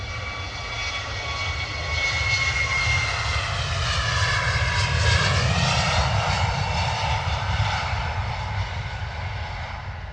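An Airbus A321neo airliner takes off at London Stansted, its jet engines a loud, steady roar that swells and sweeps in pitch as it passes, with no talk over it.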